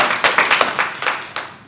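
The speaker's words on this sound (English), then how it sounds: "All right, clap it up for that" A small audience at a community event claps in a short, uneven burst of separate hand claps, fairly close and without voices.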